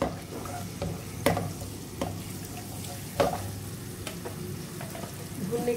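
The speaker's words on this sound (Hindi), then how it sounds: "तकरीबन 1 टेबल स्पून लूँगी मैं अदरक लहसुन का पेस्ट और इसमें भूनूँगी" About a tablespoon of ginger garlic paste frying in oil for kasoori methi daal, a soft steady sizzle under repeated spoon stirs and scrapes against the pan, with no speech.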